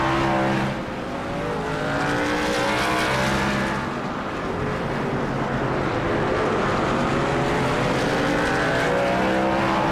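NASCAR trucks race at Daytona International Speedway in a racing game, with a continuous loud engine drone and shifting revs from a pack of trucks running together.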